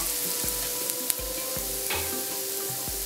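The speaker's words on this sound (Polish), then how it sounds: "na patelnię cebulkę i smażę ją tak żeby się ładnie zeszkliła" Onions sizzle steadily in a hot frying pan as they turn translucent, with a few soft scraping stirs and small pops, close and continuous.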